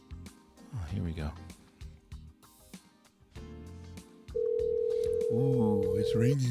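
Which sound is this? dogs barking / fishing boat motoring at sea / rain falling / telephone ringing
telephone ringing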